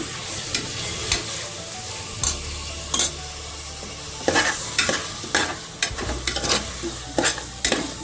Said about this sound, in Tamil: தக்காளி சேர்த்துக்கோங்க கொஞ்சம் தக்காளி நல்லா வதக்கி விட்டுக்கோங்க